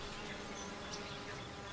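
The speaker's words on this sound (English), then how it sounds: "Bees forage thousands of flowers a day to gather nectar and pollen." Honey bees foraging among flowers make a steady, dense buzz that fills the whole stretch, close and even in loudness, with no voices.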